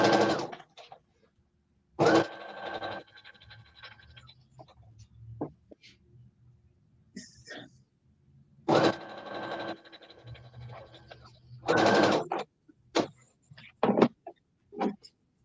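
A home sewing machine stitches quilted placemat fabric in several separate runs, loud broadband bursts lasting a second or so each, with quiet pauses and small handling clicks between them.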